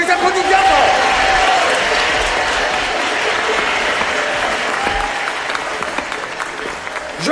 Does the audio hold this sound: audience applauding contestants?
yes